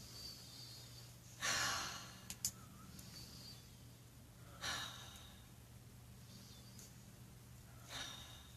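Three slow, deep breaths taken during a tapping exercise, spaced a few seconds apart, each a soft airy rush standing alone over a steady low hum in a quiet room.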